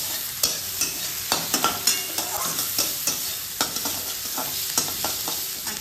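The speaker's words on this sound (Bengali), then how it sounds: "তেলের মধ্যে ফোড়ন দিয়ে আমি পেঁয়াজটাকে দিয়ে দিয়েছি ভাজার জন্য" Onions fry in hot oil with tempering spices: a constant low sizzle broken by repeated sharp scrapes and clicks of a spatula stirring the pan, close up and without speech.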